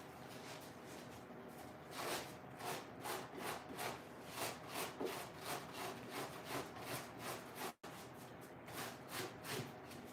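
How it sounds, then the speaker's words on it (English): Bark-tanned, hair-off deer hide scraped on a beam, heard as a quiet, even run of rhythmic rasping strokes about two to three per second, briefly cut by a single dropout. "kind of an odd way to scrape, but it works for the live stream"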